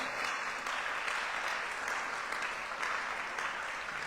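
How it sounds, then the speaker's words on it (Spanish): A church congregation applauds in worship, a dense, sustained wash of many hands clapping together, steady and fairly loud throughout with no speech over it. "Denle un aplauso al Señor"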